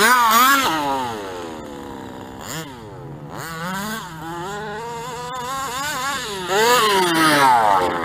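A stock King Motors 30.5 gas engine on a fifth-scale RC truggy buzzes loudly and nearby, its pitch swooping up and down as the throttle opens and closes through several revs.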